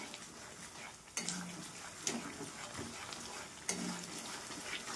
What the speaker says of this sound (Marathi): फ्राय करून घेणार आहे सर्व मसाले